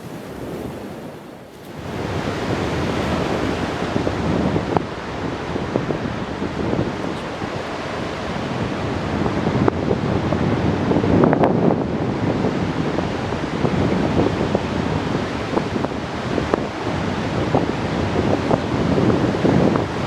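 Strong wind blowing at the beach, loud steady buffeting rush against the microphone mixed with surf, continuing for the whole stretch with no talk.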